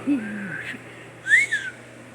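A person whistles a couple of short, wavering notes with pauses between them, fairly close and moderately loud, with no talking.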